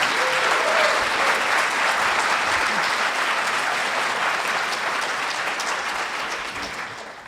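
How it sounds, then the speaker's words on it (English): Sustained audience applause at a San Diego Comic-Con 2017 panel on Batman: The Animated Series, a dense full-room clapping that holds steady and then fades toward the end. "can I get an applause for people who is the same way, like the animated series was their entry?"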